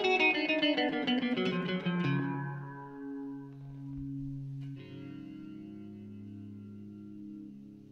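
An electric guitar, a Stagg SEL-P90BK, plays through an Anna Echo pedal set to slapback: a strummed chord rings and decays with short repeats, then a new sustained note rings out alone.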